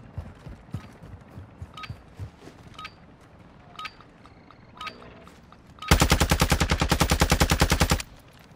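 Automatic gunfire in the Modern Warfare 2 DMZ video game: a few faint scattered shots and clicks, then a loud, sustained rapid burst of about two seconds near the end.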